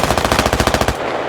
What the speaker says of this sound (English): the tank's shooting at the Logi